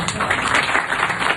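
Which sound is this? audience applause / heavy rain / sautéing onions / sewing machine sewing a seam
audience applause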